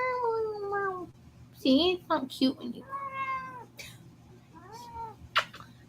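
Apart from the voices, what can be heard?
pet cat meowing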